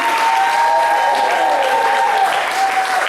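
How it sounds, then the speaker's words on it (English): A crowd at a roast event at Akebono applauds steadily for a County Council candidate taking the stage, a dense, loud wash of clapping that holds evenly throughout, with faint voices mixed underneath. "Let's give a big round of applause for the candidate for District 5 County Council."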